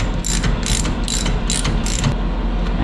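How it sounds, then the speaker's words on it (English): A ratchet wrench tightens a nylon locking nut during an RV rebuild, a loud, close, rapid clicking in several quick strokes. "Got a nylon locking nut, so I won't be able to tighten that down."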